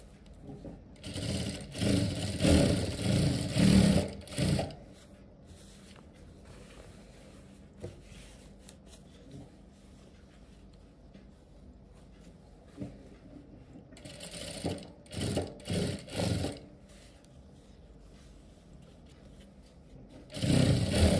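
A sewing machine stitches a belt onto a formal trouser waistband, running right along the edge of the fabric. It comes in loud bursts, one early, a cluster mid-way and another at the end, with quieter handling noise between.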